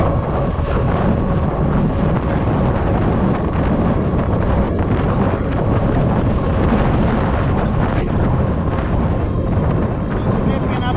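Strong headwind buffets the microphone during an uphill electric fat bike ride on a road, a loud continuous roaring rumble with no breaks, with faint voice traces underneath.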